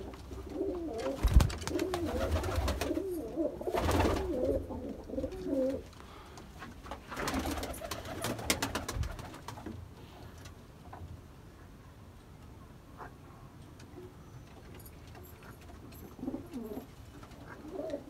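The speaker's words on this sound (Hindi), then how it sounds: "देखें कबूतर।" Pigeons kept as fancy birds, including golden pigeons, coo in soft, throaty rolling bursts close by. Quieter stretches and faint ticking sounds fall between the calls.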